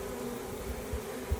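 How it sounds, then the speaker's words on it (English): Many honeybees hum around a hive in a steady, close swarm drone, with occasional louder passes as single bees fly near; no one speaks. "there's a lot of bees here"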